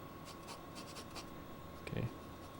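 A pencil sketches on paper in a drawing lesson, with faint, soft scratchy strokes in a quiet room and one firmer, scraping stroke near the end.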